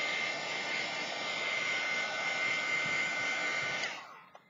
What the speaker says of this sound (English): I'm going to throw a little heat on there, dry it up, just to set it